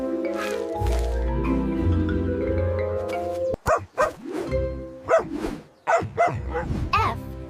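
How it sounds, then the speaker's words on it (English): A Formosan mountain dog barks several times in short sharp bursts over a sustained musical backing, fairly close and loud. "F is for Formosan mountain dog."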